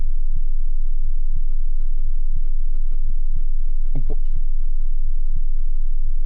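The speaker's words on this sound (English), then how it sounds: "I hear heartbeats." Heartbeat sounds in The Last Node horror video game: a steady, loud, low double-thump pulse repeating about twice a second, with a brief rising burst of noise near the middle over a faint hum.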